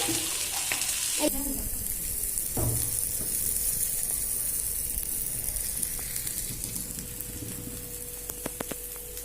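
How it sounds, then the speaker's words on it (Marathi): Bangda mackerel fillets fry in hot oil in a pan, giving a steady close sizzle and crackle throughout, with occasional clinks and a brief shuffle as the fish is handled. "मिनटं आपण फ्राय करून घेऊया आपण पलटले आता आपण तेल पण टाकलेलं आहे"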